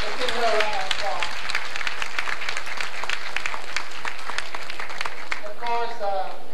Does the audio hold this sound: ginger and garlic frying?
no